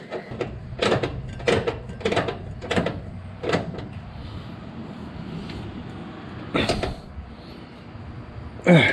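The top nut of a shock absorber on a 2005 Ford Ranger is tightened in a run of sharp, loud ratcheting bursts, several in quick succession and then two more after a pause, with a voice between them.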